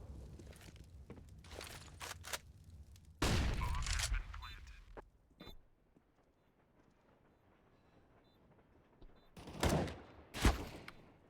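Gunfire in a competitive video game match, a few sharp shots spread apart with a brief loud burst and later cracks, mixed with faint movement noise at moderate distance.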